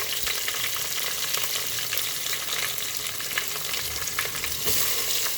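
Crushed garlic and dried red chilies fry in hot oil with cumin and mustard seeds for a drumstick dal, a loud steady close sizzle with occasional stirring scrapes and no voices.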